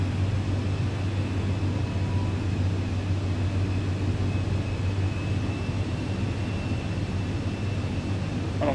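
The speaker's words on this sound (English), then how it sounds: "let me go ahead and drop the landing gear. Get some more throttle in." A Cirrus Vision Jet SF50 in the MSFS flight simulator drones with a steady, loud engine hum and broadband rush, unbroken for the whole stretch with no talk.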